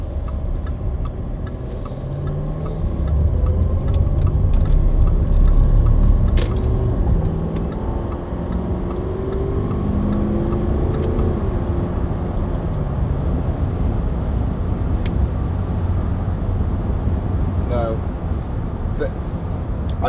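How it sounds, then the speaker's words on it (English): A Range Rover 4.4 TD V8 Westminster cruises along a bumpy dual carriageway, giving a steady low road and engine rumble inside the cabin with occasional clicks, while a person talks over it throughout. "I drive along this road every day, and although it's a dual carriageway, it's still a little bit bumpy."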